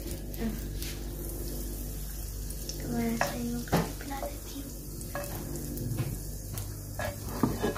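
Butter sizzles in a greased pan while pizza buns are being prepared, a soft steady frying hiss with scraping and stirring clicks from a utensil against the pan, fairly quiet and close.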